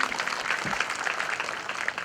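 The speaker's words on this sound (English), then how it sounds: "I request all of you to please give a big round of applause to Atulji." An audience at a taxation seminar claps in a brief, steady round of applause at moderate loudness.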